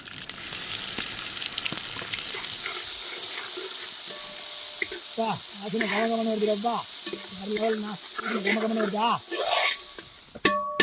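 Ground masala sautés in tempering oil for a drumstick flesh and seed thokku. It gives a steady, close frying hiss with occasional stirring scrapes, and a voice talks over the middle part.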